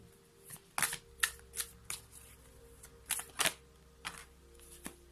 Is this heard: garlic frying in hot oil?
no